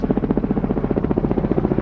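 Kamov 31 navy helicopters fly overhead at a welcome for the Prime Minister in Goa, their rotors making a loud, steady, rapid chopping throb that carries on throughout.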